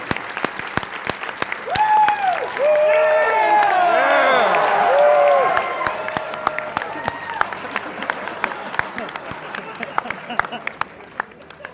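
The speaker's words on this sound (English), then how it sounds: "Everyone, please give a round of applause for Mr. Jeff Best." Audience applause at the Everfree Northwest 2022 opening ceremonies, a dense steady crowd clapping with whoops and cheers, with a speaker's voice over the top near the start and a louder swell in the middle before it thins out.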